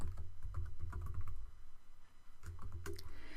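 Rapid, soft clicking of keys as code is typed on a computer keyboard, in close-up bursts with a brief pause midway.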